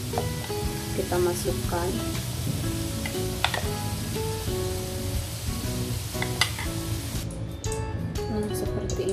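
Prawns coated in a batter of wheat flour, rice flour and cornstarch frying in hot oil, giving a steady crackling sizzle throughout with occasional stirring clatter and a brief spoken remark.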